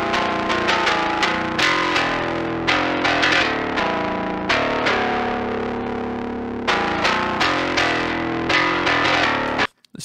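A distorted, effects-laden bass guitar processed with stock plugins for a metal tone plays a run of plucked notes with a chorus-like shimmer, stopping abruptly at the end.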